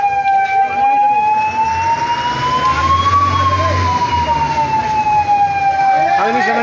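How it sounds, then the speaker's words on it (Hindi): A fire brigade truck arrives with its siren at a parked pickup truck fire in Gangapur City; the loud, close siren holds a slowly rising and falling wail throughout over steady engine rumble. "और फायर ब्रिगेड की गाड़ी पहुंच गई है दर्शकों।"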